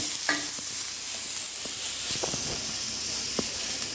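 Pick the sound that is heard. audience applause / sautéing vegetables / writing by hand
sautéing vegetables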